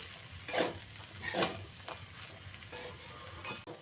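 A spoon stirs sabudana pulao with fried peanuts and coriander in a pan, giving soft scraping strokes at a loose, uneven rhythm over a faint sizzle, close and fairly quiet.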